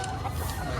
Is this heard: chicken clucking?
yes